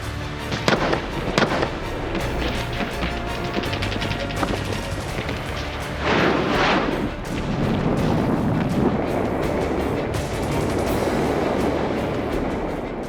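Heavy artillery and gunfire in the battle for Manila during the Second World War, a dense continuous roar of blasts and crackling shots with sharper reports standing out early and again midway, loud and without speech.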